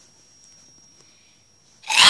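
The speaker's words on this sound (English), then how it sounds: "So, got sneeze coming." A single sharp sneeze bursts out right at the end after near silence.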